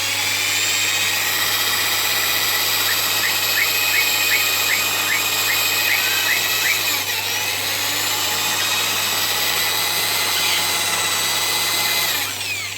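A cordless power drill with a buffing pad adapter polishes the paint of a Lexus IS200, giving a steady high-pitched whine. The whine runs continuously for about twelve seconds with slight speed changes and is loud and close.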